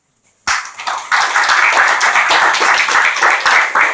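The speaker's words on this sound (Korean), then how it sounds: "인공지능 특강을 해주신 고용훈 작가님께 박수 부탁드립니다." Applause from a school audience at Yongnam High School in Gyeryong thanking a guest lecturer after an AI talk, bursting in after a brief quiet start and holding as dense, steady clapping from many hands.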